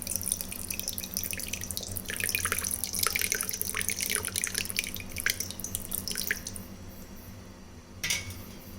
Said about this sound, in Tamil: மாதிரி வடிகட்டி இந்த டம்ளரில் போட்டுக்கலாம்.